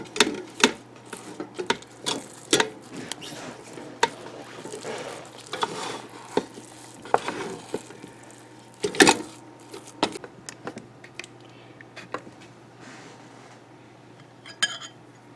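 Cheesy grits being stirred in a Ninja Foodi pressure cooker pot, with a spoon scraping and clinking against the pot in irregular, close bursts over a steady low hum.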